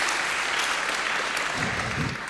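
A crowd applauds steadily, a dense continuous patter of many hands clapping at close range, sustained without pause.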